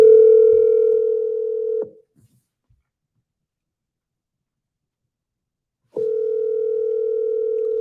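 A steady telephone ringback tone on an outgoing call to a seller, loud and close, sounding for about two seconds, then falling silent for four seconds before the next long tone begins.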